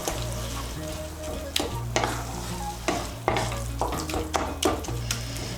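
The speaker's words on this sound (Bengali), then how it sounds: "গরম মশলার গুঁড়োটাকে ভালো করে মিশিয়ে নেব।" Garam masala powder stirred into spinach paste in a pan, a low sizzle beneath frequent scraping and knocking of a spoon against the pan, close and busy throughout.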